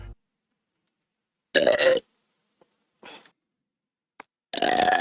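A woman burps several times, two long, loud, rumbling burps separated by brief quiet, with a couple of small short gulps between them, close to the mic.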